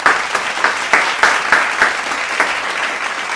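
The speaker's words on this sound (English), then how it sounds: "Give a round of applause for them," Audience applause at a school spring arts showcase, a steady wash of clapping with individual claps popping out rhythmically, loud and sustained with no speech over it.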